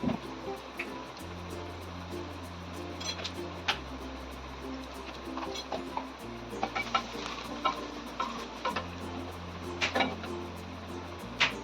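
Sliced onions with turmeric, salt, chili powder, coriander powder and garam masala being stirred in a sizzling pan, soft scrapes and taps over a steady fry, with a droning tune in the background.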